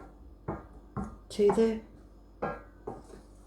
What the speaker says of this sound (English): just then stir in the condensed milk